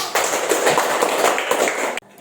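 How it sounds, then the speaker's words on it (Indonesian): A classroom audience applauds a group's presentation with a dense burst of clapping that runs for about two seconds and then stops abruptly, leaving near quiet. "terima kasih terhadap penampilan dari kelompok 3. Beri tepuk tangan dulu."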